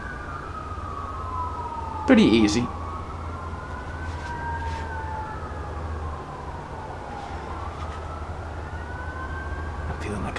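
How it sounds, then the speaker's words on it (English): Emergency vehicle sirens wail outside, steady and rising and falling, fairly loud behind constant background noise, with a brief spoken remark near the start. "I'm getting so angry at those sirens."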